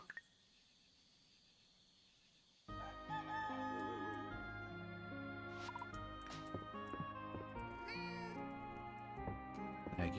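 A cartoon cat meows in the farming game Fields of Mistria, several short meows over upbeat game music after a quiet opening, with chicken clucks and a rooster crow mixed in.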